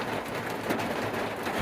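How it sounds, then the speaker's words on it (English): Hail drums steadily on the roof and body of a van during a storm near Flagstaff, a dense, even patter of close impacts filling the short moment with no voices. "Well, you're not going to believe this. Another hailstorm."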